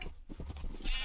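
A sheep bleating in the Minecraft video game, a couple of short, fairly faint bleats heard alone without talk.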